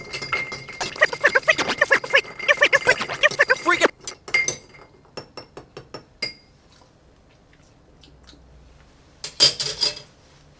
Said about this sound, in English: let's stir this variation on an old fashioned.